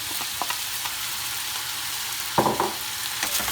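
Vegetables with garlic and ginger frying in a pan, a steady soft sizzle throughout with a brief louder burst of stirring scrapes partway through, no talk.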